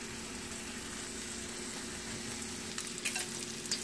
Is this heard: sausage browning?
yes